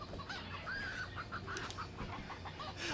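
Chickens in the video game Moving Out give a quick run of repeated, somewhat agitated clucks over a continuous background of game sound.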